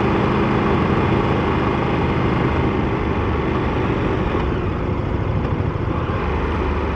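A KTM 1390 Super Duke R Evo motorcycle is ridden along, its engine a continuous broadband drone blended with rushing wind and road noise, steady and fairly loud from start to finish, with no talking.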